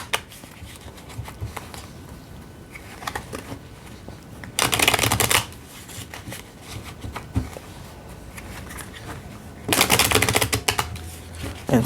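Tarot cards shuffled by hand in several bursts, with two loud, rapid riffling runs of about a second each and quieter handling and tapping of the deck in between.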